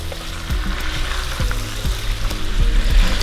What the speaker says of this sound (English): we're gonna let this simmer down for about 3 minutes just for the gizzard to suck in some of the sauce and the flavor